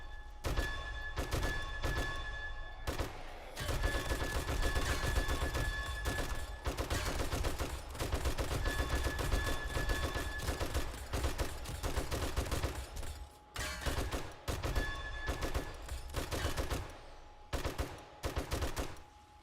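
Gunfire rattles in the zombie survival game 7 Days to Die, with repeated rapid bursts of shots up close, separated by brief pauses, loud and sustained across the stretch.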